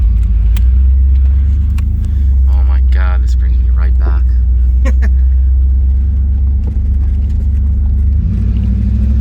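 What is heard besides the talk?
car engine rumbling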